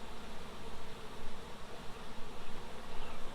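Honeybees swarming thickly around an open beehive box during an inspection, a dense, continuous buzzing hum that fills the space at close range with constant fluctuations and no talking.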